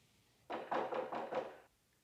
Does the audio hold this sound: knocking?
yes